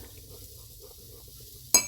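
Warm salad dressing for a chicken salad is stirred in a bowl, giving soft, faint scraping and swishing sounds in a quiet kitchen, ending with a sudden sharp clink of utensil against dish.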